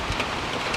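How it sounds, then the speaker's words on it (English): Heavy rain pours down on a windy autumn day, a dense, steady hiss with no pauses throughout the short moment. "It's raining like crazy here again today."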